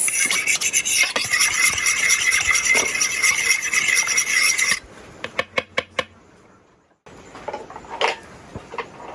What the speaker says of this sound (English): so we're just stirring all of that in to a big mess